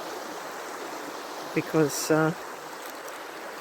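A rainforest river flowing as a steady broad rush of water throughout, with a brief spoken word and a short burst of voice over it near the middle.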